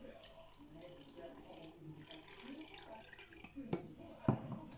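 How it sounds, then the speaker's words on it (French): Water poured into a container at home, a gentle continuous trickle and splash up close, fairly quiet, with a couple of louder knocks near the end and faint voices in the background. "vous mettez de l'eau dedans"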